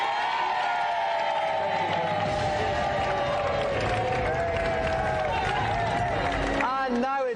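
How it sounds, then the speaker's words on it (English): A television studio audience at a 1994 video-games show applauds and cheers for snooker player Jimmy White, a dense, loud crowd roar with clapping and whoops that continues steadily, with a voice and music rising near the end. "Please, give a round of applause."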